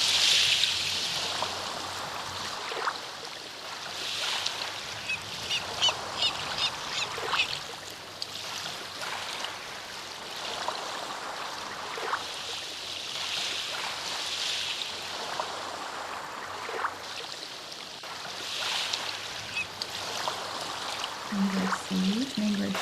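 Water flows and trickles through a mangrove habitat, a soft continuous wash with gentle surges and splashes recurring every few seconds, faint bird calls at the edges.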